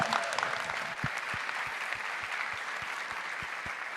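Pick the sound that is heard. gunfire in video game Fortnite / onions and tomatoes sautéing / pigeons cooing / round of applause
round of applause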